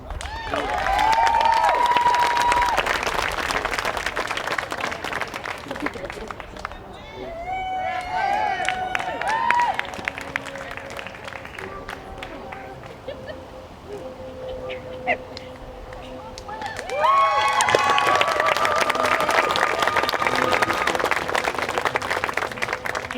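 Applause for the Flex Academy class of 2024 at a graduation ceremony in Vancouver, a crowd clapping loudly at the start and again near the end, with a quieter stretch in between where a voice speaks over scattered claps.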